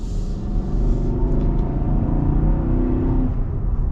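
The 5.6-liter V8 of a 2024 Nissan Armada SUV revs and hums nearby, a strong steady low drone that rises slightly in pitch, heard alone without talking.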